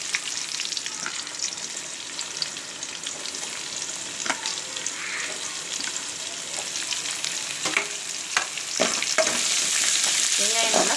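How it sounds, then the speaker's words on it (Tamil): Onions and garlic sauté in hot oil in a pan, a continuous close sizzle broken by repeated spoon scrapes and stirring knocks, growing slightly louder near the end with no talking. "வெங்காயம் நல்லா கொஞ்சமாக வதங்கணும்"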